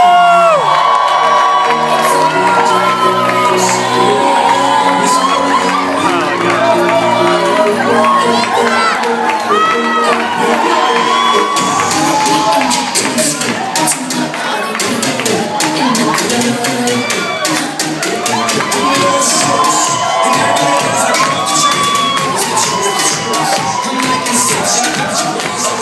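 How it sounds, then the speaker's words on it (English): Wedding guests cheer, whoop and shout as the groom's parents are introduced at the reception, a loud sustained crowd roar with music running underneath for the whole stretch. "Let's get some applause for Chana and Francis DeGuzman."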